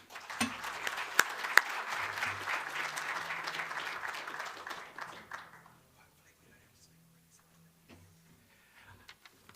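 A large business-forum audience claps loudly and steadily for about five seconds to welcome Simon Bridges to the stage, then the clapping thins and dies away, leaving a quiet room with a few faint sounds.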